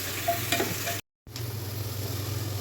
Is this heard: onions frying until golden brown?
yes